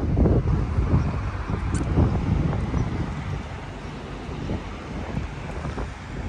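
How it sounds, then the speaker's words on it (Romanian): Steady wind buffeting a microphone, a loud rumbling roar with gusty surges throughout, no voices. "bate vântul aici"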